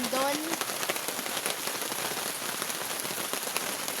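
Rain falls on a generic camping tent, a dense steady patter of drops on fabric, close and continuous, with a brief voice at the very start.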